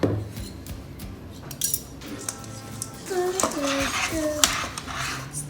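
A spoon clinks and scrapes in a bowl while stirring sticky chocolate bliss ball mixture with pumpkin seeds and goji berries, irregular close clatters with a faint voice in the background.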